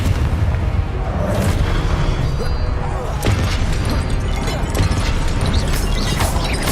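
Confringo blasting spell in a Harry Potter video game, a dense run of booming explosive hits and crashes, loud and continuous, with a voice calling out over the blasts.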